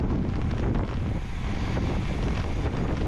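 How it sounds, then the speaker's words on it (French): A strong headwind roars across the microphone of a cyclist racing in a road race, a dense, steady, loud buffeting rush with no voices. "c'est gros vent de face"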